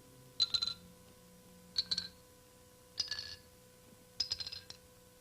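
Vibrating metal bars struck one after another, one of them slightly out of tune, giving four faint metallic rings spaced about a second apart, each decaying quickly over a steady low hum.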